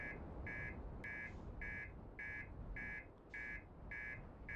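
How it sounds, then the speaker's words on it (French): A game alarm in Outer Wilds beeps in a steady, rapid pulse, about eight evenly spaced tones over a constant low rumble, fairly quiet overall, with no voices. "L'alarme pas chiante du tout."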